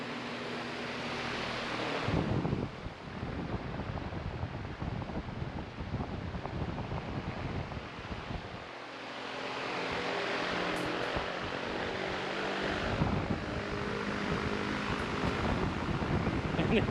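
A replacement AC blower motor on a Ford F250 blowing air, a steady loud broadband rush that runs nearly the whole time with a brief dip partway through.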